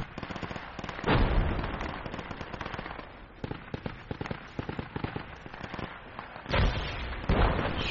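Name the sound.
mortar explosions in the video game Project Reality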